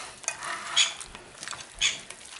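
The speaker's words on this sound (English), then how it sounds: "I'm going to give this all a little stir about" A spoon stirs carne asada around a pan in a few light scraping, clattering strokes over a faint sizzle, close and fairly quiet.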